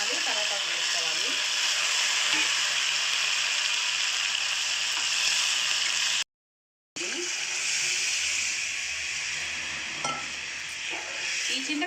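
Onions, tomatoes and curry leaves frying in tempering oil for a Nellore-style fish curry, a steady close sizzle with scraping stirring strokes, briefly cut off and then resuming.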